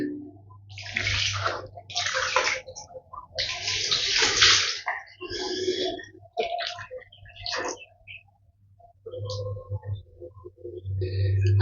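Water splashing in bursts during wudu as hands scrub and rinse, with several loud gushing spells separated by quieter gaps and a steady low hum underneath.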